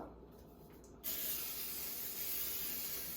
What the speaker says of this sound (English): We're going to spray our pan lightly.